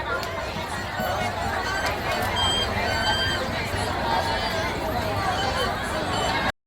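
A dense crowd throngs the Mokhada Bohada festival, with a steady hubbub of many overlapping voices, close chatter and shuffling movement that continues until it cuts off abruptly.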